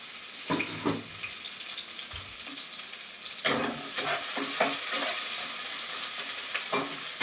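Chopped onion frying in a pan makes a continuous soft sizzle, punctuated by several distinct scraping and clattering stirs of the spatula, with no talking.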